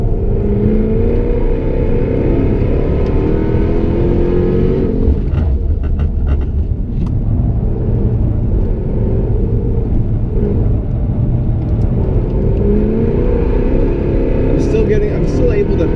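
A Jaguar F-Type R powers out of corners on a figure-eight course, its loud engine rumbling and surging continuously, with revs rising and falling and faint tire noise over the growl.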